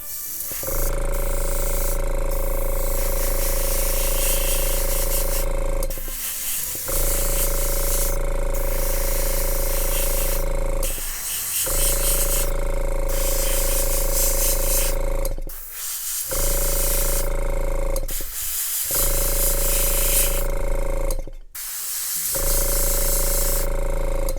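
An airbrush lays a heavy base coat on a Gunpla HG model kit, the IBO Astaroth, as long steady bursts of loud, close spray hiss with a constant tone. Each burst runs several seconds, broken by brief pauses, and nobody talks.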